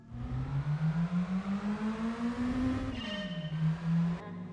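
Ford Focus SD170 with a 2.0-liter naturally aspirated engine in Gran Turismo 4, revving with a steady rising whine that dips as gears change, then climbs again, loud and alone.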